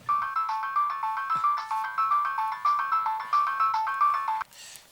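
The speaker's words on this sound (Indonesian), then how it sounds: "Lo terima telepon juga, Del?" A mobile phone ringtone plays near and clear, a repeating electronic melody in steady pulses for about four and a half seconds before cutting off, with no talk.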